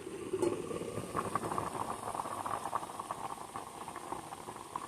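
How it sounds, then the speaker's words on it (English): A pot of dog food boiling in chicken broth bubbles steadily, a continuous close hissing simmer with a soft rattling patter throughout and no talk. "Well, it's boiling."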